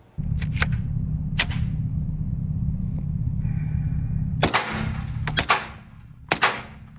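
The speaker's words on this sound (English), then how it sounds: "I have test fired this suppressor already, but not as much as I'm going to." Suppressed PTR 9KT subgun firing in a few sharp, fairly loud reports, single shots then a close pair, over a steady low rumble.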